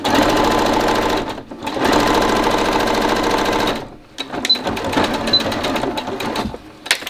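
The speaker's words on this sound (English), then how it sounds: "Without stitching over the pins." A sewing machine stitches fabric for a homemade face mask, loud and close, running in bursts with brief pauses between runs and a rattling needle rhythm.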